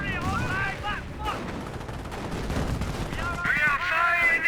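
A 25-pounder artillery barrage in the Company of Heroes strategy game, with a rumbling run of booming blasts under game voices that speak at the start and again near the end.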